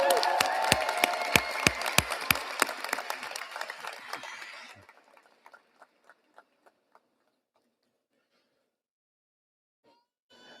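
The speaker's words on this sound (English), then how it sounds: "Have another round of applause for Asia." A commencement audience applauds for an award recipient, dense clapping filling the first half before thinning into a few scattered, isolated claps and then near silence.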